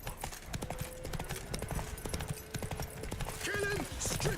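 Horse hooves clip-clop at a steady trot throughout in The Witcher 3, a rhythmic near clatter beneath game music and a voice.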